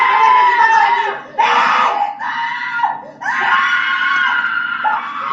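People screaming in a 3D horror sound effect, loud shrill shrieks in several bursts with brief gaps between them, close and dominant, with no talking.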